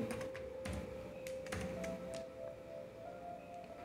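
Keys on a computer keyboard tapped in short, quick bursts while someone saves a Python file on a Raspberry Pi, soft and close against a steady background hum, with no speech.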